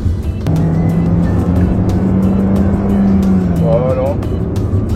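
Naturally aspirated engine of a Hyundai Kona car roaring loudly and steadily up close, a sustained drone with a rising, falling pitch, alongside a person talking.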